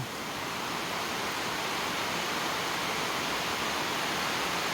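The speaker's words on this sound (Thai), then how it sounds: "ฝนตกลงมาเนี่ย" Steady rain pours down in a continuous, even hiss with no pauses and no voices.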